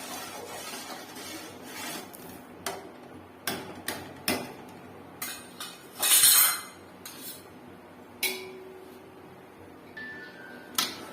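A spoon scrapes and clinks against a kadai while mutton blood fry is stirred, with sporadic sharp metallic taps and short scrapes spread over quiet gaps and one longer rasping stir near the middle.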